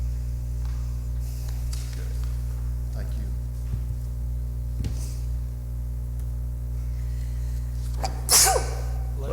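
A single sneeze at a city council meeting, short and fairly close near the end, over a steady mains hum and quiet room tone.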